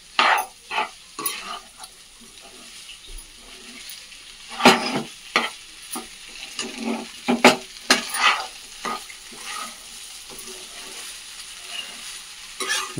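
Tomato rice frying in a pan over high heat is stirred with a spoon, giving irregular scraping clatters and knocks against the pan over a soft sizzle, close and sporadic, with no talking.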